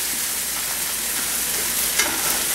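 Cabbage frying and starting to catch in a non-stick skillet while being stirred, a steady close sizzle with soft scraping strokes running through it and no talk.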